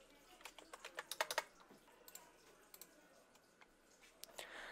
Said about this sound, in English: So we're just gonna type in